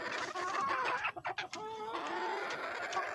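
A chicken clucks and cackles close by in a few short bursts, with quiet farmyard background around it.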